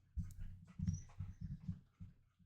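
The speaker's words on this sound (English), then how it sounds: "My puppy is mad at me." A small dog whimpers and whines in a run of short, uneven cries, close by and fairly quiet, with brief pauses between them.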